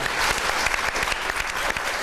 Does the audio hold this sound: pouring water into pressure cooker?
no